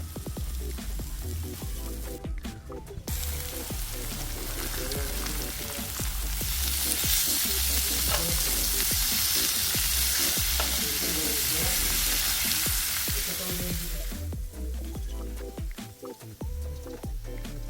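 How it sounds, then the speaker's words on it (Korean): Meat sizzles and fries on a hot grill plate alongside kimchi, mushrooms and garlic, a steady loud crackling hiss with occasional stirring and scraping throughout, no talking. "열이 뜨겁게 달아올랐을 때 고기를 올리는 것을 추천드립니다."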